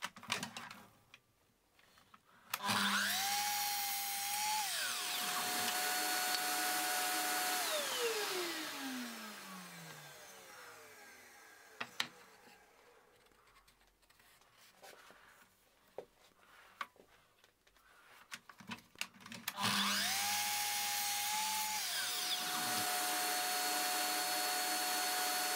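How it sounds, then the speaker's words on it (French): A power drill bores dowel holes into the long sides of a wooden table frame, two separate whining bursts that rise and wind down, with quieter handling and tapping noises in between. "Et avant de coller le cadre, je vais faire les trous sur les grands côtés."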